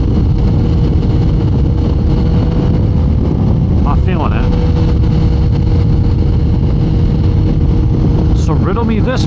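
A Kawasaki ZX14R motorcycle engine runs in third gear with a loud, steady drone under wind noise, while a rider speaks briefly over it.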